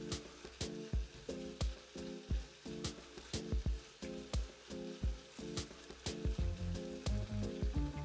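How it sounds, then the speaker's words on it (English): Stew beef sizzles and crackles in a hot pan, with a steady frying hiss and rhythmic scraping or stirring knocks repeating throughout. "You hear it doing that frying"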